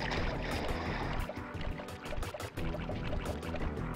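Sly Cooper dropping into water in Sly Raccoon from The Sly Collection on PS3, a dense, rushing splash and pouring wash that fills the whole moment, loud and close with no voices.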